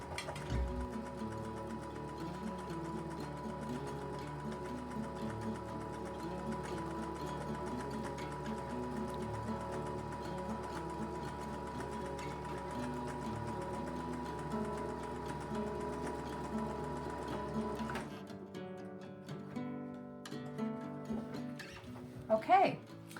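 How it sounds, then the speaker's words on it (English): A sewing machine stitches fabric for a bowl cozy with a steady, continuous mechanical hum and whir for most of the stretch, then stops abruptly, followed by a few small clicks and handling noises. "So let's go to the sewing machine and get that done."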